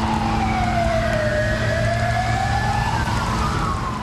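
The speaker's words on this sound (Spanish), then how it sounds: "escucharán de fondo, detrás de las ambulancias" Ambulance sirens wail with a slow rising and falling pitch, loud and continuous, over a low rumble of engines.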